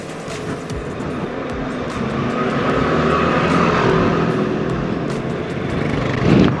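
A Kawasaki ZX25RR four-cylinder motorcycle, stock, revs out on a test ride, its high-pitched engine roar rising and holding steady up close with wind rush, no talking over it.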